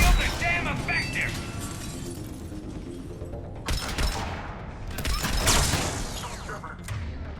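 Turret gunfire in Mass Effect 3 rattles in dense bursts of automatic shots and impacts. Sharp louder volleys break through midway over a busy combat background with voices.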